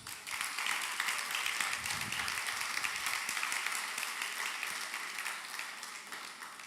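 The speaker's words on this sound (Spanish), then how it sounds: "Denle un aplauso a Jesús." A church congregation applauds during a service, a full, even wash of many hands clapping that holds steady and fades slightly toward the end, heard at moderate distance.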